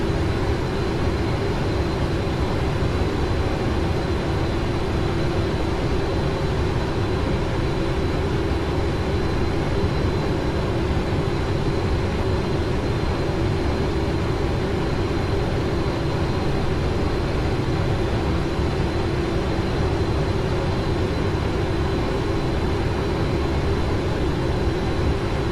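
Cockpit sound of a PMDG Boeing 777 airliner landing in Flight Simulator X, a dense, steady engine and airflow roar that stays loud and constant throughout with no speech.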